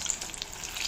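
Bhaji fritters made without soda sizzle in a small amount of oil after being flipped to the second side. A brief, faint, even crackle is heard close by with no voices.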